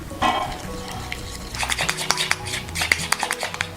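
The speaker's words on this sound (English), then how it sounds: "So give that a bit of a stir, just a little whisk." Whisk stirring a sauce of agave syrup and sesame oil in a bowl: quick rhythmic clinks and scrapes of metal against the dish, close and fairly soft, with no talking.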